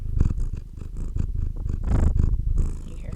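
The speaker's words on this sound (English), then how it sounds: "You hear her purring?" Close, steady purring of a cat, rough rhythmic rumbling with regular breaths in and out, loud and intimate with no talking over it.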